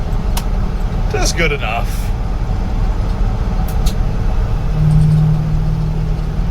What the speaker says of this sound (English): it's just fun driving around something this old, especially when it moves like this